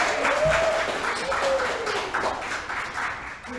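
Audience applause at the 2022 Horizon creative writing showcase, a steady crowd clapping throughout, with some voices mixed in.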